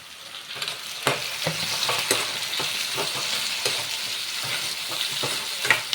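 Onions and tomatoes fry in a pan for a bitter gourd curry, a steady close sizzle broken by repeated scraping stirs, loud and without talk.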